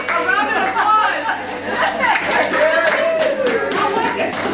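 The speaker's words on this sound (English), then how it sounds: "A round of applause." A small group in Holland breaks into a round of applause, brisk clapping that mixes with lively voices and cheerful chatter close by.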